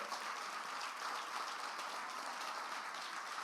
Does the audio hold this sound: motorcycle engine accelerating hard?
no